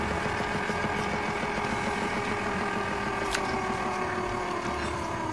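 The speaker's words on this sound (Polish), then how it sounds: "turbina ruszyła od razu, słychać." A small electric chocolate fountain motor runs after cold milk is added to the chocolate, giving a loud, continuous mechanical hum with a faint whine that holds steady throughout.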